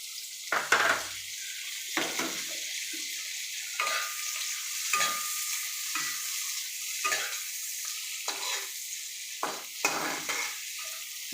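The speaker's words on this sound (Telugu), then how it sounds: "ఇప్పుడు ఆనియన్స్ని ఫ్రై చేసుకుందామండి." Onions frying in a pan with a soft, even sizzle, punctuated by repeated clanks and scrapes of a spoon against the pan at a slow, irregular pace, close by and without speech.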